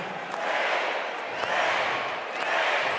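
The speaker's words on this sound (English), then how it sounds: "The whole crowd is standing up here with their hands in the air, calling for the 3." A basketball arena crowd at an NBL game between the Sydney Kings and Melbourne United roars steadily as fans stand calling for a three-pointer, a loud sustained swell of cheering with a commentator faintly under it.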